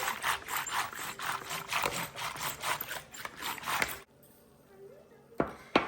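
Rhythmic swishing and slapping of a churner whisking curd with water into buttermilk, quick regular strokes for about four seconds, then near silence with a couple of knocks.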